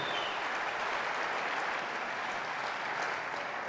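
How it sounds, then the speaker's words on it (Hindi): Seated audience at a company leadership meeting breaks into steady, dense applause, a continuous wash of clapping hands at moderate distance with no talking over it. "एक बार फिर से अपने लिए तालियां बजाइए"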